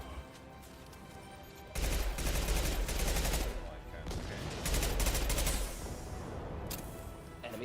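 Gunfire in the video game Mass Effect 2: bursts of heavy shooting roar in and out for several seconds over a steady background, loud and close.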